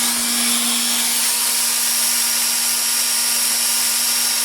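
An angle grinder and an electric drill run together on a home solar power system, giving a steady, loud motor whine with a constant hum throughout and no pauses.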